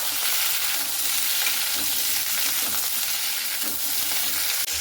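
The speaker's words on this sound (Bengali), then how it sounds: "এরপরে আলু আর ঝিঙেটাও 2-3 মিনিট একটু ভালো মতো করে ভেজে নেব এইভাবে" Potatoes and ridge gourd fry in a pan with a steady, even sizzle, crackling continuously and fairly close with no talking.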